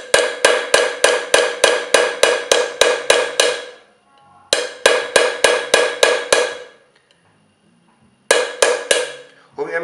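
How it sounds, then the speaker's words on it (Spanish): A chasing hammer strikes a metal chasing tool with rapid, evenly spaced metallic taps ringing out close up in three bursts of about a dozen strikes each, separated by brief pauses. "No importa el martillo o con qué le pego."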